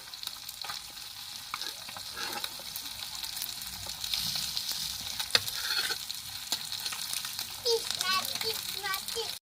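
Tilapia fish pieces fry in hot oil with a constant bright sizzle and occasional rattles of the pan, while children's voices sound faintly in the background.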